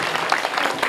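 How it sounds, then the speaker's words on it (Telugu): A brief stretch of steady audience clapping, a dense even patter of many hands at moderate volume. "మీరు చప్పట్లు కొట్టారంటే మీరు అట్లా ఏమైనా చేసినారా?"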